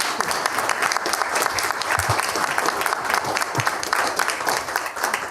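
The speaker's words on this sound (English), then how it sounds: "Please, audience, if you would join me in a warm round of applause" A warm, sustained round of audience applause at a candidate Q&A event, dense and even with scattered sharper claps, continuing steadily from start to finish with no talking over it.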